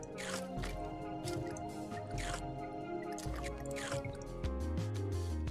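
Squishy, wet dripping and splatting sounds from drip familiars in the video game The Binding of Isaac play in rapid, repeated bursts over game music.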